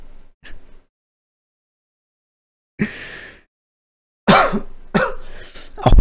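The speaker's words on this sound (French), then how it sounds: "il va falloir que je fasse extrêmement attention quand je tousse" A person coughs in a few short, separate bursts, close to the microphone, with one faint earlier sound and silence in between.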